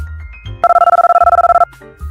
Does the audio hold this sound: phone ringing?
yes